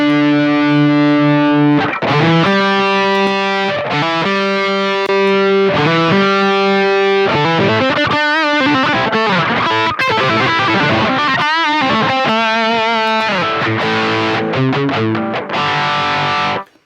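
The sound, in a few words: electric guitar lead played through a clean boost pedal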